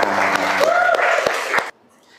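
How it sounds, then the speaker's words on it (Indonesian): A few sharp, rhythmic claps in a patterned group clap during an Indonesian school lesson, mixed with voices, then cut off abruptly into near silence. "Tepuk tangan untuk kita semua."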